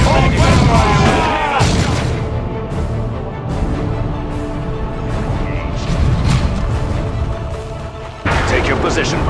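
Heavy gunfire and booming artillery blasts in the Warhammer 40,000: Dawn of War II video game, with loud, dense, rolling bursts and impacts, and voices shouting over the battle.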